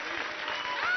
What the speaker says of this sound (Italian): Facciamo un applauso a loro, Simona Izzo e Ricky Stognazzi